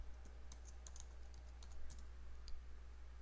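Quick bursts of keystrokes on a computer keyboard as a folder name is typed, close and quiet, a short run of uneven clicks over a low steady hum.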